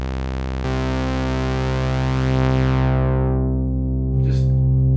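Moog Matriarch analog synthesizer playing a sustained, buzzy harmonic tone through its filter with no resonance, the bright upper harmonics gradually closing down into a darker, mellower sound; a second note enters near the end, loud and alone.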